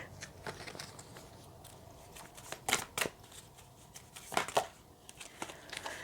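Tarot cards being shuffled by hand, a soft riffling and slapping with a few sharper bursts, close and quiet with no talk.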